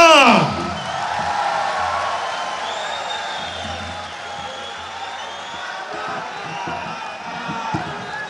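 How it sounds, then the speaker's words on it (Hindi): Audience at an oath-taking ceremony for the Islamabad admin and advisory council breaks into sustained cheering and crowd noise after a sharp opening burst, a broad continuous roar with scattered shouts that slowly settles over several seconds. "भरपूर तालियां।"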